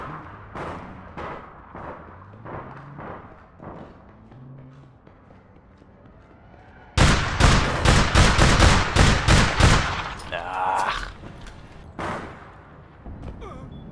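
Gunfire in a shooter video game: scattered single shots and distant bursts at first, then a loud, rapid string of close automatic shots, followed by a few more separate shots.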